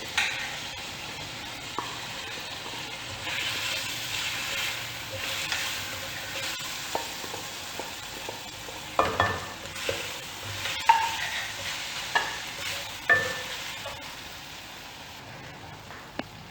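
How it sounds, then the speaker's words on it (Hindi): Chicken pieces with garlic and ginger sizzle steadily in a hot pan, with a continuous fry hiss broken by repeated scraping stirs and clinks of a spatula, alone and close by. "ये चिकन लहसुन अदरक हमारा फ्राई हो चुके हैं।"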